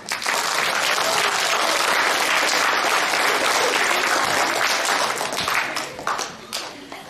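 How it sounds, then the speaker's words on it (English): An audience at an elementary school assembly gives a sustained round of applause for kindergarten and first grade students of the month, with dense steady clapping that thins and fades over the last second or so. "So let's give them one more round of applause."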